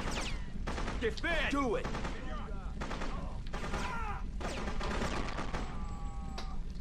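Bursts of assault rifle fire rattle in rapid volleys during a Freedom Fighters firefight, loud and close, with short gaps between strings of shots while voices speak over the battle.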